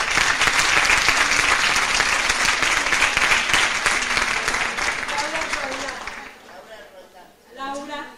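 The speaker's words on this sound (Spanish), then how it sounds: "Démosle un cálido aplauso" A conference audience at a provincial literacy and literature congress gives sustained, loud applause to welcome a speaker, the clapping fading out before a voice begins speaking.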